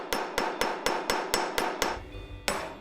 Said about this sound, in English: Always look at what you're hammering.